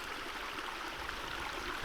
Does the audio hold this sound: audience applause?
no